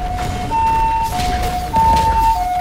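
An ambulance's two-tone siren wails steadily, alternating between high and low pitches, loud and fairly near, with low traffic rumble beneath.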